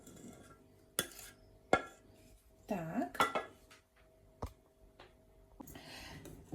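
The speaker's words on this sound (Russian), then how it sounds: "Я ее перелью в другую мисочку, в которой мне будет мешать тесто более удобно." Cooled honey cake batter is poured from a saucepan into another bowl, with sharp clinks of metal and dishes, soft scraping and a brief thick pour, plus a quiet spoken word.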